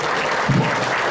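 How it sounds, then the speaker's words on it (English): Audience clapping for the Garden Grove Police Department color guard at a community ceremony, a dense wash of many hands applauding at steady loudness over a short stretch. "give them a round of applause"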